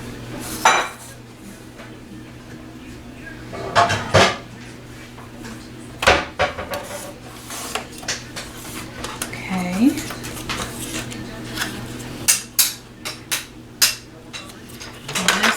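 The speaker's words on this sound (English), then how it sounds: "Sorry about all the racket. My kids are putting up the dishes." Children putting away dishes in a home, with pots, pans and cutlery clattering in repeated sharp bursts and clinks at close range, irregular and loud, over a steady low hum with some talk in the background.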